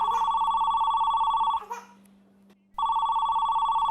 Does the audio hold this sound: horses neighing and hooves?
no